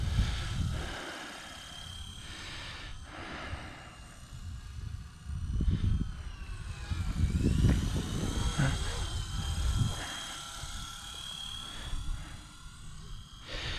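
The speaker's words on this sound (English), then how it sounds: "But this helicopter isn't a bad little heli to fly" A small beginner RC helicopter flies with a whining rotor and motor buzz that rises and falls in pitch, heard at moderate distance among outdoor noise and occasional low rumbles.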